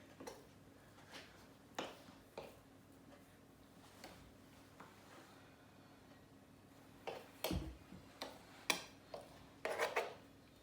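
A knife scrapes and pats gluten-free bread dough into shape, making soft scattered scrapes and light taps close by that grow louder and more frequent toward the end.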